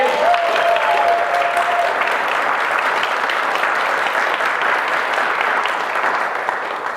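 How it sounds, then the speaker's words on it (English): An audience applauds steadily and loudly throughout, a dense wash of clapping that barely fades toward the end. "and a big round of applause for Davina, everybody!"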